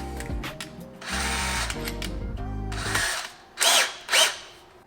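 A power drill enlarges holes in a Renault Trafic camper van side panel, whirring in two sustained runs with a ratcheting texture, followed by two short, louder grinding bursts.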